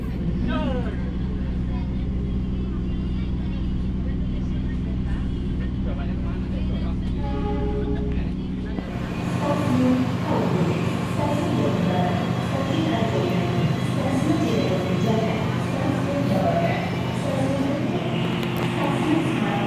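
Inside the Airlangga economy-class passenger train running from Pasar Senen, a steady low rumble and hum fill the carriage. An announcement plays over it, then the sound shifts to a brighter rattling roll with chatter around.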